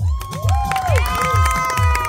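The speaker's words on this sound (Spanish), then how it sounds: "Aplauso para el número uno." A crowd at a numbered contest cheers and shouts with whistles, over a pounding rhythmic beat, loud and close for a couple of seconds.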